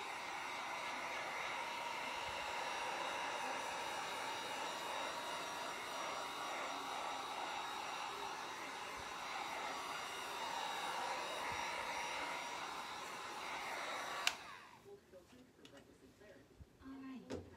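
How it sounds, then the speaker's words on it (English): A heat gun blowing hot air over fluid art paint, a steady loud whooshing hiss that runs for about fourteen seconds, then cuts off abruptly, leaving quiet room noise. "Now I'm going to put a heat gun to it one more time."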